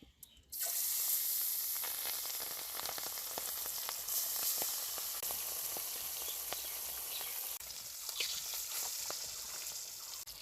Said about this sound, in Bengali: তেল গরম হয়ে গেছে, এখন মাছটা ভাজে নেই।